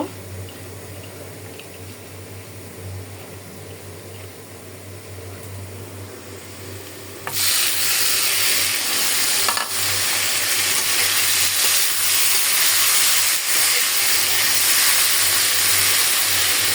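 Onions and small mola fish fry in a wok, a steady quiet sizzle that jumps to a louder, brighter hiss partway through and holds at that level to the end, with no talking.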